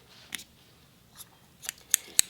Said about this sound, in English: we're going to go ahead and cut our yarn